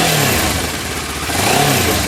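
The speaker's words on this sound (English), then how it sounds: "I always try to give them a little throttle and let you see the exhaust while I do that." A blue 2009 Kawasaki Versys 650 motorcycle engine gets brief throttle blips, its exhaust rising into a rough, loud rev from a running idle and settling back, heard up close with no talking.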